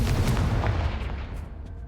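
Confringo spell blast in the Hogwarts Legacy video game: a dense, loud low-end boom and rumble that carries through the whole moment and slowly tails off, with no talk over it.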